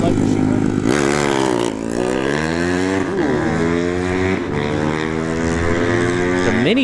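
A mini bike engine at a drag strip test-and-tune session revs hard, its pitch climbing and dropping in repeated sweeps, loud and steady throughout the clip.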